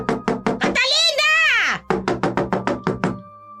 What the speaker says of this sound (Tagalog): Biglang may malakas na katok sa kanilang pinto.